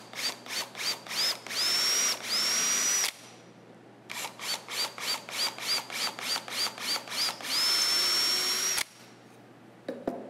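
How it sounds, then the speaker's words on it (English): A power drill bores holes through a bow riser pipe, with quick repeated bursts of trigger pulses, then longer steady whirring runs, close and loud, twice over with a short pause between. "So I'm going to go ahead and just drill those down."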